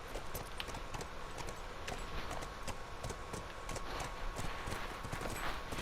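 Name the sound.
horse hooves clip-clopping in video game The Last of Us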